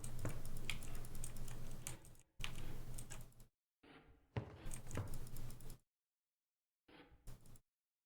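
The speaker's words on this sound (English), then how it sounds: "As you can hear me spam clicking, but I'm very desperately trying to click all of the things that could possibly be clicked." Rapid, dense computer mouse clicking during a session of the game Inscryption, coming in bursts of a couple of seconds separated by silent gaps, close and fairly quiet, with no voices.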